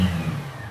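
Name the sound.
Honda SP 125 motorcycle engine revving with throttle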